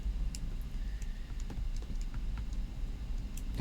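Someone types on a computer keyboard, faint scattered key clicks at an irregular pace over a low steady hum, with no one talking.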